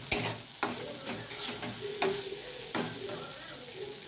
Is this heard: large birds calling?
no